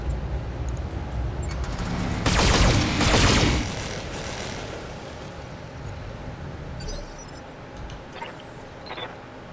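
Mech weapons fire in the BattleTech video game, a loud dense burst of blasts lasting about two seconds, followed by quieter mechanical game sounds.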